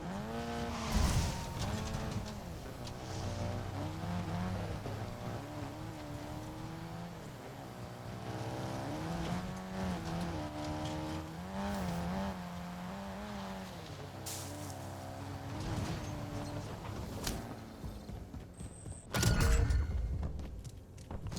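A car driven in the Warzone battle royale game, its engine droning steadily with rising and falling revs over about twenty seconds, with a loud burst near the end.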